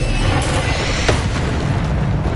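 Incendio fire spell cast in the Hogwarts Legacy game: a loud, dense, roaring burst of flame that fills the whole moment, with a brief sharp crackle in the middle and no speech over it.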